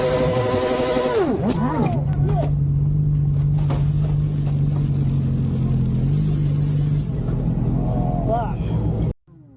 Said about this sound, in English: a biker revs up and burns the rear tire